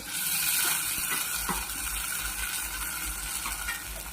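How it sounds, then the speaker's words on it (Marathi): Paneer cubes tipped into hot oil and stirred in a pan for paneer tikka masala, giving a loud, steady hissing sizzle with a few soft scraping knocks, close by and without voices. "आपण जे पनीर केलं होतं ते आता यामध्ये टाकणार आहोत अशा पद्धतीने आपल्याला टाकून घ्यायचं"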